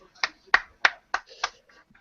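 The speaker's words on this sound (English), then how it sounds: "Rowan will actually start clapping" A person claps their hands, five sharp, close claps in an uneven rhythm over about two seconds, with faint vocal sounds between them.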